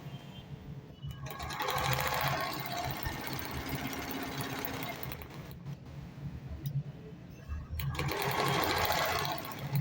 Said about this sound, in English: we are sewing on the wrong side of the fabric